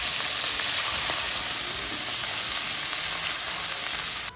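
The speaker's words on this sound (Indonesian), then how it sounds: "Sekarang kita tumis bumbu yang tadi kita halusin." Ground spice paste of garlic and other seasonings frying in a pan, a loud, dense and continuous sizzle that cuts off abruptly at the end.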